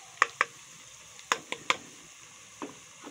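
A spoon scrapes and taps a pan where masala spices fry for fish curry, giving six distinct clinks in an uneven rhythm over a faint, quiet sizzle close by.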